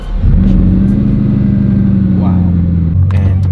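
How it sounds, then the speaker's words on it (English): A Bugatti Chiron fires up at the push of its start button, the engine catching with a quick rise and then settling into a deep, steady idle rumble close by, with brief mechanical ticks toward the end. "I just gotta push the engine button."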